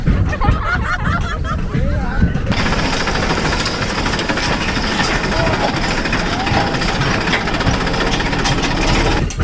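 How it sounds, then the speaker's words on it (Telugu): A tractor engine chugs loudly and steadily while the tractor rumbles along a rocky forest road, with constant rattling and jolting noise and people's voices mixed in throughout. "చాలా ఏళ్ళ తర్వాత ట్రాక్టర్లో పోవడం నిజంగానే ఒక జంపింగ్ గింపింగ్గా ఉంది"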